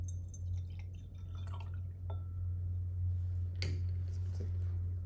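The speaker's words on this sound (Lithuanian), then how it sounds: "Į cheminę stiklinę įpilam vandenį." Water poured into a glass chemistry beaker makes a few faint drips and splashes over a steady low electrical hum, with no voices.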